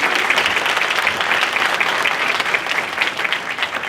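Steady applause from a seated community audience, dense and even clapping at close-to-moderate distance that holds for the full few seconds without a break.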